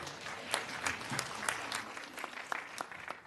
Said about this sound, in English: Well, you can go ahead and clap.